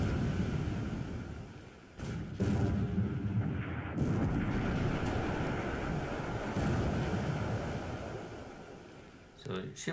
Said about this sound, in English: So ship side, critical hit and magazine explosion.